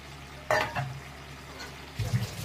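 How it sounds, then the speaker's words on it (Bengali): Small mourola fish in a pot of simmering water, stirred with a utensil: a scrape and bubbling burst, then softer stirring and a second rustle near the end, close and moderately loud, with no talk. "এবার এই মাছগুলো ওপর থেকে দিয়ে দিই, দিয়ে আর একটু ফুটুক"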